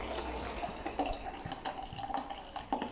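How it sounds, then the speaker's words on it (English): Fizzy water poured into a glass with lemon and mint at a food festival cooking demonstration, a steady close splashing trickle with faint clinks of glassware, no talk over it. "And then add your fizzy water,"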